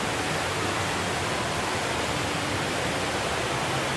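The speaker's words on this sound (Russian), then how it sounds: "Причем фонтан, вот этот вот водопад, он посередине." An indoor waterfall fountain in Singapore's airport terminal produces a dense, steady rush of falling water, a broad even hiss and roar that stays constant and fairly loud with no variation.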